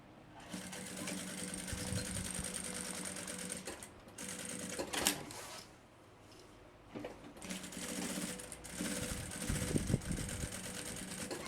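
A sewing machine stitches bias binding onto a backpack, its rapid motor chatter running in several bursts with brief pauses between them, close and clear, with no voices.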